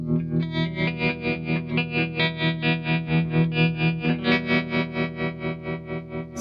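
Electric guitar runs through a Red Witch Pentavocal tremolo pedal at an intermediate setting, its sustained chords pulsing in a steady, fast wobble that stays loud and close throughout, with no voice.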